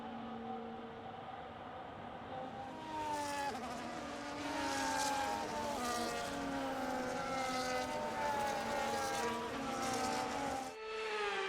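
F1 race cars on a formation lap in F1 25, engines droning and rising in pitch as several cars pass, steady and moderately near, with a sudden cut near the end, no talking.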